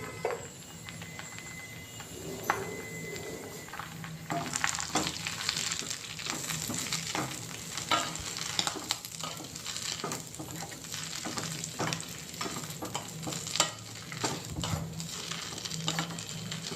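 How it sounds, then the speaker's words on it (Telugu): Drumstick leaves and mango pieces fry on low heat in a pan for Telugu-style drumstick leaf dal. A steady close sizzle runs throughout, with spatula stirs and scrapes tapping through it and no talking. "సిమ్లో బట్టి బాగా వేగనివ్వాలి ఇవన్నీ"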